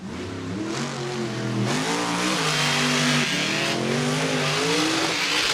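A monster truck engine revs hard during a Monster Jam run on a dirt track, its roaring pitch rising and falling through throttle bursts with scattered tire and impact noise, loud and close, with no talk.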